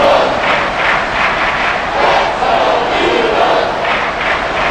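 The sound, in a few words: stadium crowd noise in video game Madden NFL 24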